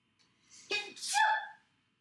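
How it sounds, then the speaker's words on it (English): A single close sneeze: a short sharp inhale followed by a burst of breathy noise, then quiet. "I have to sneeze"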